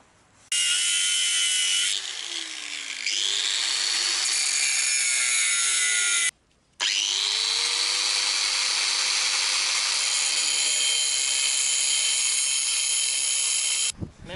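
Power tool cutting bevelled notches into the metal central bushing of a Citroën Traction 11B front axle, a loud continuous grinding rasp lasting several seconds, briefly stopping, then resuming steadily before cutting off.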